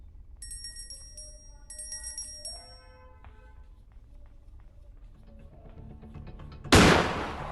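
A single sharp gunshot fires in the horror video game Granny. It comes near the end, loud and abrupt, after a stretch of quiet electronic game tones.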